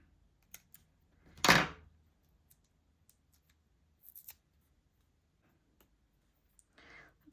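A paper strip being torn off at its end while a card is made, one brisk rip near the start followed by a few faint papery rustles, close and otherwise quiet.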